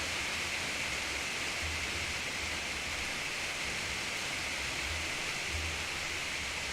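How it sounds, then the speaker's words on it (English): Steady rain from the video game Two Point Hospital, a loud, even hiss of downpour that runs unbroken throughout with no talking, only faint low thumps beneath. "That rain sounds pretty fucking loud"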